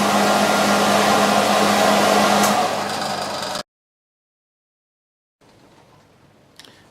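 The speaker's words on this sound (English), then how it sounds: "In this test, the blower is positioned 3 feet away from the turbine." An electric blower blows at a small horizontal-axis wind turbine with a venturi, a loud steady whooshing drone that fades and cuts off abruptly, followed by silence and a faint low hum.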